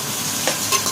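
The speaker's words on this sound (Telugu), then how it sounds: "ఇప్పుడు కొంచెం టమాటో వేసుకోవాలి. మొత్తం మిక్స్ చేయాలి," Tomato is stirred into ghee for mutton biryani, with a brief, close scrape of the spoon over a constant frying sizzle.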